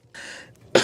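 A single close, short cough bursts out after a brief breathy throat noise.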